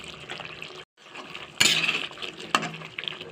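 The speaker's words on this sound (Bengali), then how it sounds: "এখন আমি এখানে 1 চামচের মতো গরম মশলা দিয়ে ভালো করে নেড়ে দেবো" Metal spoon scraping and clinking against a pan while cauliflower and egg curry is stirred after a spoonful of garam masala goes in, with a few sharp clatters between softer scrapes and a brief pause.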